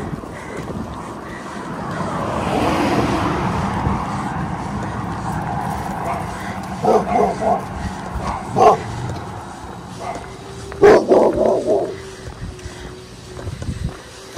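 A few puppy barks and yips ring out in short bursts over wind noise and a steady outdoor rumble in a small town on the Appalachian Trail, with a person talking now and then.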